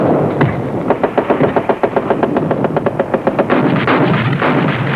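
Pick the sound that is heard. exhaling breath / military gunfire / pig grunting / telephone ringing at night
military gunfire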